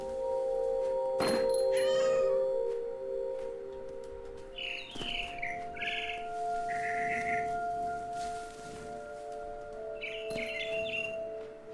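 A frightened bird in the video game What Remains of Edith Finch gives a few short, bright chirps and flutters in scattered bursts over a steady, sustained ambient drone.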